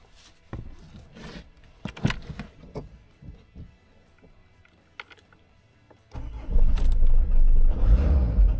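A car engine cranks and catches after a jump starter booster is connected, a loud steady idle rumbling in at the end after several scattered clicks and knocks.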